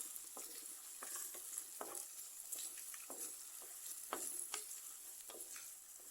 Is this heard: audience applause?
no